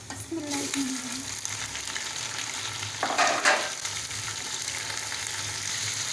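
Steady, loud sizzling of chicken frying in a pan with onions and paste for pulao, with a brief scraping stir midway and no talking.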